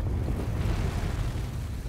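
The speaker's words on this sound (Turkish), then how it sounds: "Büyük volkan patladı." A big volcano erupts in a cartoon, heard as a loud, continuous, deep roaring rumble with a broad noisy texture and no talk.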